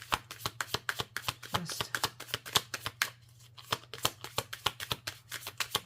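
Tarot cards being shuffled in a quiet room, a rapid, even series of crisp riffling flicks with a short pause midway, close and clear, with a brief spoken word.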